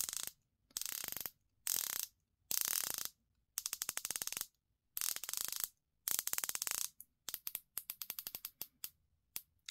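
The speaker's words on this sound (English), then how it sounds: "The clicks are precise and tactile." The rotating bezel of a San Martin GMT diver watch turned by hand, giving bursts of crisp, rapid ratcheting clicks close up, separated by short pauses and ending in a run of slower, spaced single clicks.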